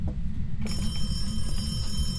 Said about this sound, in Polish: Ty, telefon ci dzwonił?